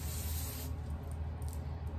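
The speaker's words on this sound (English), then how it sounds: "I spray a little oil sheen up here for like the spritz and whatnot" Oil sheen hair spray spritzed onto hair, heard as a steady, close, broad hiss of spray that lasts the full two seconds without a break.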